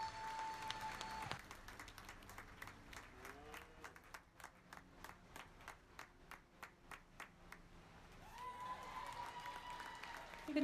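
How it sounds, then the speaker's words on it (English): A small crowd at a youth beef market show claps for the young exhibitors, a modest rhythmic round of applause that builds then fades, faint and roomy, with background voices and a brief announcer line. "give them one more round of applause"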